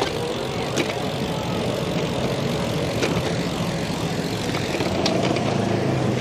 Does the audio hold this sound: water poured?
no